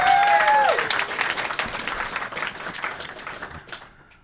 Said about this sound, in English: Let's give him another round of applause, folks.